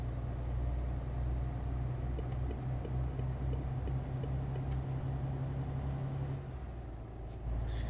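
Truck engine in the Euro Truck Simulator 2 video game, a steady low droning rumble held loud and continuous throughout, easing slightly near the end with a few faint clicks.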